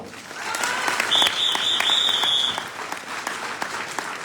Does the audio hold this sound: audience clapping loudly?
yes